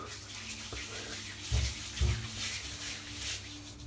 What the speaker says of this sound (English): Just going to put a bit more water on my head.